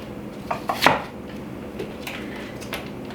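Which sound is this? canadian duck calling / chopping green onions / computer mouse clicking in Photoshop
chopping green onions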